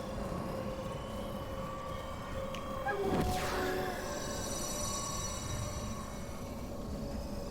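Train passing in the Remnant 2 video game, a continuous rumbling rail drone with high whining and screeching tones and a sharp sweeping swell near the middle, no voices.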